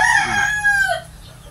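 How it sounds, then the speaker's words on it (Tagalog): A rooster crows once, loud and close, from a pen of chickens, the call rising then trailing off over about a second above a low background hum. "napakarami ko ng manok dito"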